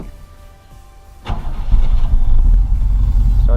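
A 1981 Chevrolet K10 truck engine cranks briefly and catches, then settles into a loud, close, rumbling idle after a quiet lead-in.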